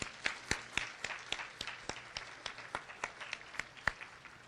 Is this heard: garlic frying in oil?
no